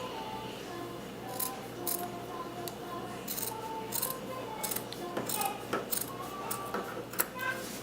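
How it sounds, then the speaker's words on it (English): Scissors cut through T-shirt sleeve hems in a series of short, crisp snips spread across the clip, set against a low steady background hum. "Next, I'm going to cut the hem off the sleeves."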